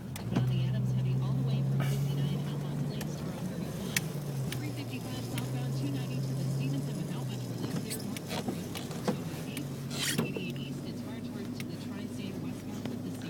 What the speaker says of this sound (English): I'm on my four-wheel drive right now because it won't work without the four-wheel drive.